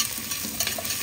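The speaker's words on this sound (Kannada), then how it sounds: "ಸ್ಪೂನ್ ತಗೊಂಡು ಹಿಂಗೆ ತಿರುಗಿಸ್ಬೇಕು" Onions frying in a pan for togarikalu curry, stirred with a spoon: a continuous loud sizzle with soft scraping and clinking as the spoon moves through.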